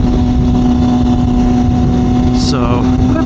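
Raspy exhaust note of a 2021 Triumph Daytona 765 Moto2 motorcycle fitted with an Arrow slip-on, a steady low engine drone held throughout, close and loud, with a brief higher whine near the end.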